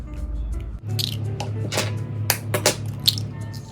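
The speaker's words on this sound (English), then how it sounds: "So for our egg wash, we need 2 eggs here. Crack them open." Two eggs are cracked open for an egg wash, giving a few close, sharp cracks and wet squishy drips over a low kitchen hum.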